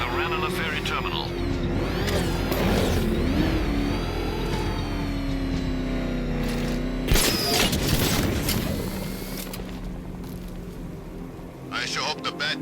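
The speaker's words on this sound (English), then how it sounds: "I sure hope the Bat died in that explosion." An explosion goes off in the video game Batman Arkham Knight, a sharp broadband blast partway through, set against rumbling vehicle engines, mechanical clatter and game voices.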